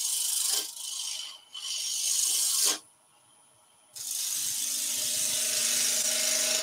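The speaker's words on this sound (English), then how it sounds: "let's go for a quarter inch bowl gouge. And I'm just going to very lightly skim." A quarter inch bowl gouge lightly skims spinning wood on a lathe, a bright hissing scrape in sustained passes broken by brief pauses and one longer quiet gap.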